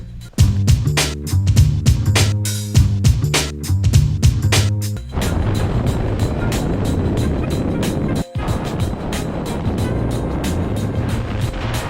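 A Yamaha MT-03 motorcycle rides fast on a road in Bolivia, its engine droning steadily under heavy wind roar, with a few sharp transient knocks early on.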